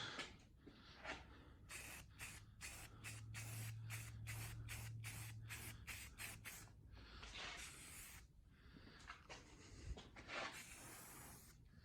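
Quick hissing bursts of an aerosol can laying a light coat of self-etching primer on a Polaris Indy snowmobile nose cone plate, short rhythmic pulses close by, soft overall.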